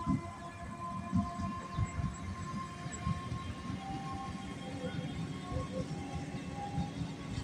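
A train passes nearby with a sustained low rumble, rhythmic clatter of wheels and a tonal horn-like drone running through it.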